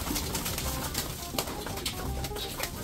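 Young racing pigeons cooing softly in a coop, a low continuous murmur of overlapping coos with faint rustling, moderately close.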